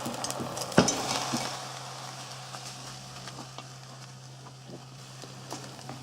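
Lentils stirred through hot oil in a pan on the stove, a soft steady sizzle with light scraping, one sharp utensil knock near the start, close and fairly quiet.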